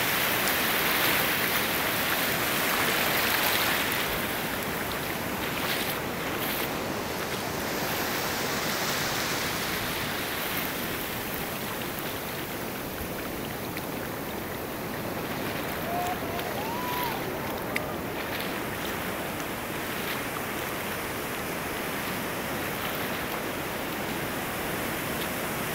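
Ocean waves wash steadily onto a beach, a broad continuous roar of surf and churning water; a voice speaks faintly at times beneath the wash.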